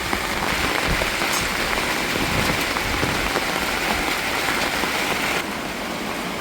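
Heavy, unbroken rain pours down over a seaside village, a dense steady roar of drops hitting surfaces that fills the whole stretch without pause, easing only slightly near the end.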